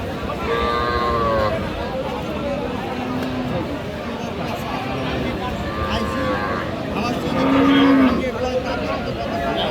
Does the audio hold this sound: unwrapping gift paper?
no